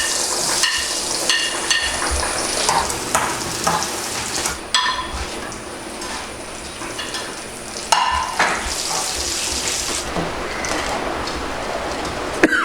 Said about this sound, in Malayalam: അപ്പോൾ ഇത് നമുക്ക് ആദ്യം വറുത്തെടുക്കണം.